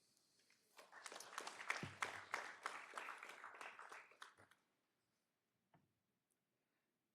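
Applause at a board meeting, a scattered group clapping for about four seconds at moderate distance, swelling then tapering off into near silence with a few faint clicks.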